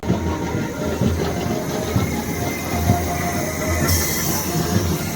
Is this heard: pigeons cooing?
no